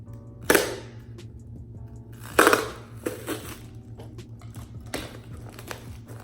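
Sharp crunching snips of scissors through cardboard, three or four loud cuts spaced out over a low background hum.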